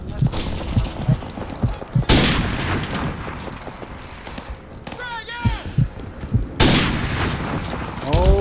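Sniper rifle shots in a video game, two loud, sharp cracks a few seconds apart, each with a long ringing tail, over busy game ambience with footsteps and small clatter.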